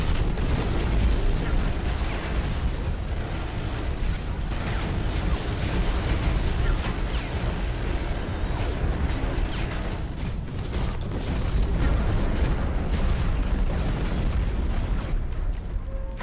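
Repeated grenade blasts from a Raider mech in the Hawken mech combat game, dense booming bursts layered over constant battle noise and machinery, with a voice talking over parts of the action.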